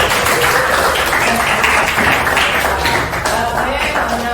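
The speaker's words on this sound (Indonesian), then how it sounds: "Kita tepuk tangan dulu." Applause from a class of students, dense continuous clapping from many hands filling the room, loud and close for several seconds with no talk.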